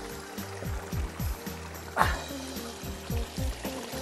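Spring water pours steadily from a small fountain in a jungle, a close, continuous splashing trickle with a brief louder gush midway and a low rhythmic thudding underneath.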